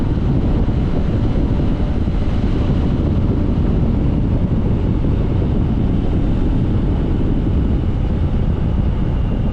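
Steady low rumble of a Honda XR150 dual sport motorcycle on a ride, engine drone heavily mixed with constant wind buffeting on the microphone, loud and unbroken throughout.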